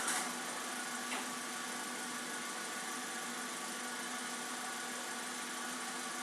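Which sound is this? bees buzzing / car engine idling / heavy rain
car engine idling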